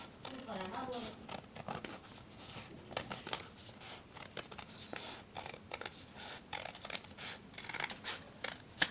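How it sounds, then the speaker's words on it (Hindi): Scissors cut through cloth for a belted churidar salwar, a series of short crisp snips and rustling fabric close up, with a voice talking over much of it. "अब हम इसको यहाँ से इस तरीके से कपड़े को काट देते हैं।"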